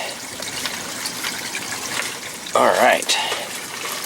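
Water splashes and trickles over a fish tank as wisteria plants are pulled from an aquaponic garden, a steady close wash of dripping with a sharper splash near the end and a brief spoken word.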